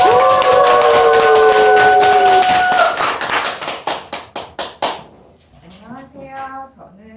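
An audience bursts into applause welcoming a lecturer, dense clapping that thins into several loud separate claps and fades out, with a voice speaking over the start and end.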